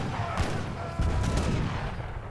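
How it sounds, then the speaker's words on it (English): Heavy cannon volleys in the Age of Empires video game boom in dense, overlapping blasts, a continuous loud barrage with repeated explosive hits. "Yurumi getting cleaned up with those heavy cannon volleys"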